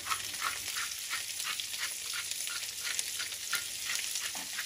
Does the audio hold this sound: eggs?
yes